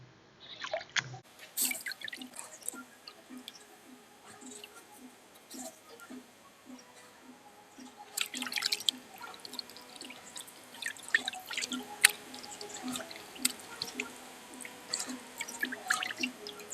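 Water drips steadily in an even ticking rhythm as strawberry plant roots are rinsed in fresh water for a hydroponic system, with soft splashes and handling noises joining partway through.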